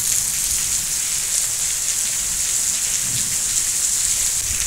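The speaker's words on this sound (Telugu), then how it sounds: "చూసుకోండి ఫ్రెండ్స్, వర్షం బాగానే వస్తుంది." Heavy rain pours onto open farm fields, a dense, steady hiss with low rumbling underneath that holds unbroken from start to finish, with no voices.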